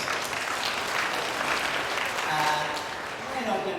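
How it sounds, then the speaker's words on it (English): A round of applause from a symposium audience at an Australian biosecurity event, a steady dense wash of clapping throughout, with faint voices near the end. "And round of applause."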